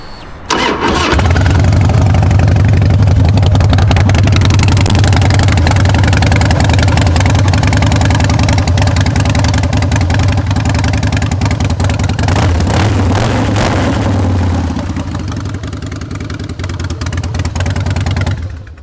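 A 2003 Harley-Davidson Fat Boy motorcycle engine cranks and fires up, then runs at a loud, close, throbbing idle with a slight dip near the end, no talking.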